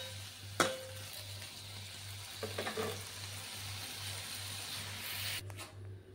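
Paneer pieces for paneer bhaji frying in oil in a pan, a steady soft sizzle running throughout with a few faint scraping stirs, close by and with no talk.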